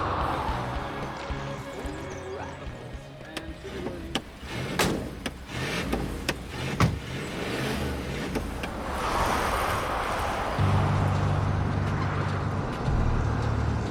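A car climbs a winding mountain road toward a wingsuit BASE jump exit point in the Italian Alps, its engine and road noise rumbling steadily, with bumps and knocks from the cabin.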